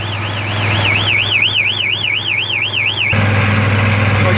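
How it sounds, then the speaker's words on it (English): A loud electronic alarm on a rail speeder wails with a rapidly warbling siren tone over a steady engine hum, then cuts off as the hum grows louder. "You can hear the alarm. It's going to get loud in a second."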